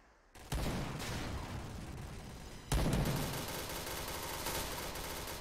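Gunfire in the online shooter Point Blank, with dense bursts of rapid shots and a loud blast that starts a second wave of sustained firing, all heard close and continuous.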